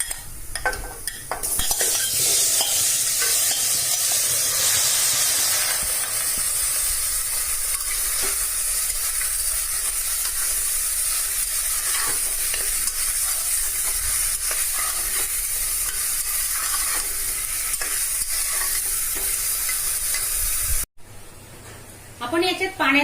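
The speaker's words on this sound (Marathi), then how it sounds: "कांदे लाल झाल्यानंतर आपण हे मटण टाकून घेऊ याच्यात." Mutton sizzles loudly with browned onions in a pressure cooker while being stirred, a continuous frying hiss with scraping stir strokes that cuts out briefly near the end.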